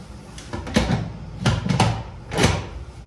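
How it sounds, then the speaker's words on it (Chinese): A pressure cooker lid is fitted onto the pot over a dish of braised mustard greens and pork, giving several close, dull metallic knocks and clunks spread across a few seconds. "盖锅盖"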